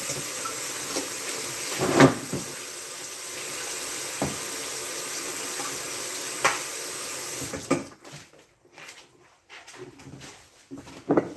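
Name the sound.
washing hands under running tap water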